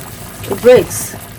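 Cranberries boil in a saucepan on the stove, giving a soft bubbling and simmering hiss that swells briefly in the middle of a short stretch, close and fairly quiet.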